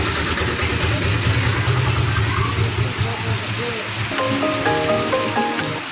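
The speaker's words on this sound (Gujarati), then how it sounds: "તો વરસાદ આવી ગયો" Rain falling outdoors on a village road, a loud steady wash of rushing water close by with a low rumbling undertone and a brief ringing tone near the end.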